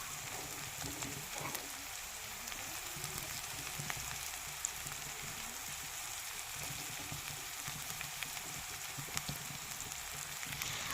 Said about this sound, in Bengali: এখন অল্প পরিমাণে সয়া সস দিয়ে ভালোভাবে ভাজতে থাকবো।